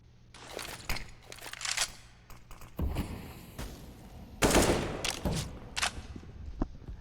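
Gunfire in a Counter-Strike match, with repeated sharp shots and bursts scattered over several seconds, some loud and close, others fainter, over continuous game ambience.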